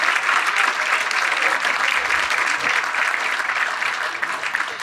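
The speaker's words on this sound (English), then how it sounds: "Let's give them a round of applause" A large audience at an NAACP Freedom Fund dinner claps in a sustained, dense wave that stays loud and even, tapering only slightly toward the end.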